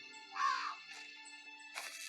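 Crows in The First Tree give a few hoarse caws, one clear call then fainter ones, spaced across two seconds over a quiet steady musical drone.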